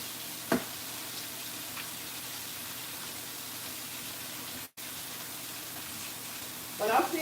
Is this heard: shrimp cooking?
yes